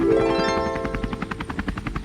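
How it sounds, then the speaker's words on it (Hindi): Helicopter flying overhead in a comic scene while dropping grain sacks for flood victims, a loud close rhythmic rotor chop pulsing steadily for two seconds. "अब वह हेलीकॉप्टर बाढ़ पीड़ितों की मदद के लिए अनाज फेंक रहा है"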